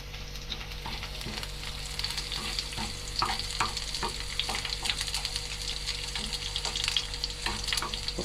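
Curry stirred in a frying pan gives a soft, continuous sizzle with irregular scraping and clicking strokes, fairly quiet and close over a low steady hum.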